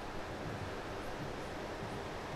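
Running stream water at Burning Lake in Bumthang, Bhutan, a steady broadband rush that holds constant throughout, with no voices.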